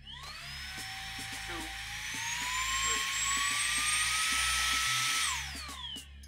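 A rechargeable 2-in-1 keyboard duster and vacuum whines steadily and climbs in pitch as it steps up through its three power levels, growing loud and jet-like before spinning down at the end.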